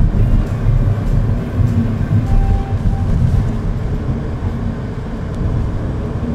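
Engine of a new Mini Cooper running in green drive mode, a steady, close low rumble with broadband road and cabin noise, continuous and fairly loud with no talk.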